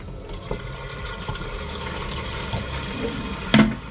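A concealed-cistern toilet flushing, with steady rushing water throughout and a short, louder gurgle near the end.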